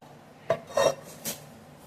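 A frying pan goes onto the stove with a few light metallic clanks and a short scraping rattle, three brief knocks close by in an otherwise quiet kitchen.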